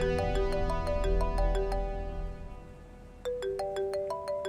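A phone ringtone plays a bright melodic pattern of repeated tones, pausing briefly, then starting its chiming phrase again, with low background hum underneath.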